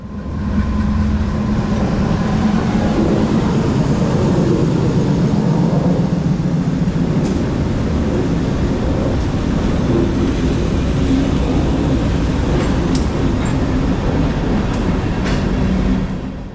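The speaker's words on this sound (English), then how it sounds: "an even louder set of chugging GE locomotives could be heard in the distance" A freight train of empty hoppers passes at South Norwalk, hauled by orange six-axle GE locomotives that chug loudly. The heavy, steady diesel rumble and rolling noise carry on throughout, with faint squeals, in wet weather.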